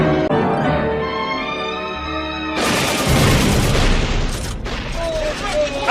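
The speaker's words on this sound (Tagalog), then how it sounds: "Kanina pa tayo nagpapalitan ng putok." Gunfire in a staged soldier skit: a steady harmonic hum gives way to a loud, dense barrage of overlapping shots and blasts that runs on without a break.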